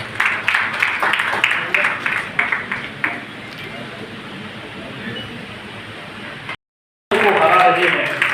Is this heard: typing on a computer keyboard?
no